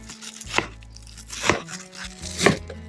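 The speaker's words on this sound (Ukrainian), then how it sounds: "Беремо цибульку і нарізаємо" Three evenly spaced knife chops through onion being cut finely on a board, sharp distinct thuds about a second apart over a low background hum, close and clear.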